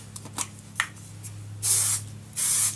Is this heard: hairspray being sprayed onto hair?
yes